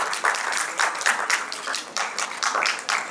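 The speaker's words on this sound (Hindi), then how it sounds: "आप सभी जोरदार तालियों के साथ इसमें सहयोग कर सकते हैं" Audience at an award ceremony clapping in uneven bursts, loud and close, with separate claps standing out from the group as the applause swells and dips.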